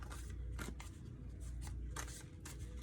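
A gloss-laminated oracle card deck being shuffled: several quick papery riffles and slides in short bursts, close and quiet, with no talking.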